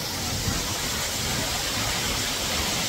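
Umbrella Waterfall at Bhandardara near Nashik, a dense, steady rush of falling water heard close up, loud and unbroken, with no talking.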